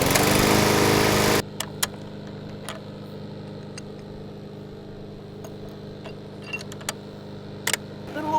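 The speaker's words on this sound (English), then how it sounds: "Let's get our mower started." A lawn mower engine fires with a loud burst of running for about a second, then cuts to a quiet background broken by scattered clicks and knocks, with no voices.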